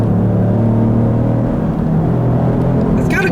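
A 2018 Lincoln Navigator Black Label's 3.5-liter twin-turbo V6 pulls hard under acceleration, a loud steady rumbling drone with a faint whir, heard from inside the cabin with no talk.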